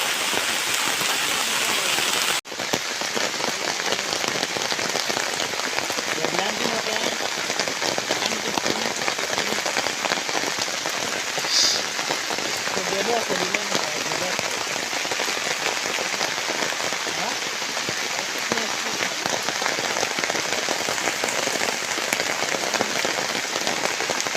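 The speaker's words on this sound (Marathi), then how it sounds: "खतरनाक पाऊस लागला" Heavy monsoon downpour over a coastal creek during a fishing trip makes a dense, close, continuous roar of rain with no voices, dipping only briefly near the start.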